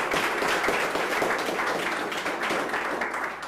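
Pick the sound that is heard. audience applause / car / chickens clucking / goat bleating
audience applause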